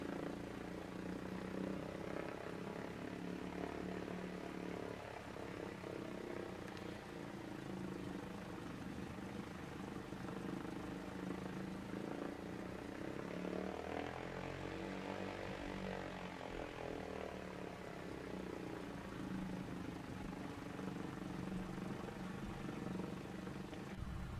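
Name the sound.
A2A Cessna 172 propeller engine in a flight simulator game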